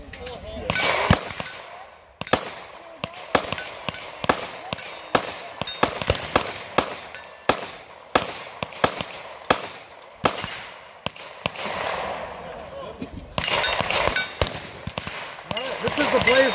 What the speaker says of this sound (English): Reason I brought mine down here, even though they brought their own guns, is you guys are going to see more shots.